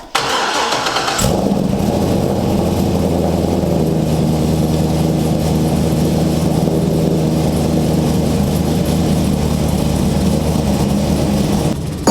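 A car engine starts after a month sitting unused, then runs steadily at idle for about eleven seconds, a loud continuous mid-pitched drone with no talking.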